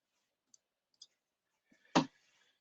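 A single crisp mouse click while choosing an online ordering page, preceded by a couple of faint ticks, close and isolated against near silence.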